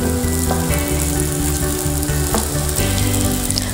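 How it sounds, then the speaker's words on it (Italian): Stale, finely crumbled breadcrumbs toasting in hot oil in a pan, a loud continuous sizzle and crackle with a steady frying hiss throughout and no voices. "Mentre l'olio sfrigola, pane raffermo che abbiamo ben bene tritato prima e lo lasciamo abbrustolire."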